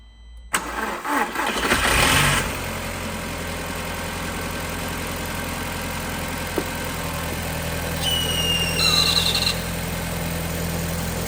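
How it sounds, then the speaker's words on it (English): An old Audi S3 engine cranks and catches after about two seconds, then settles into a steady, close idle that continues to the end. "Okay, so the engine did start"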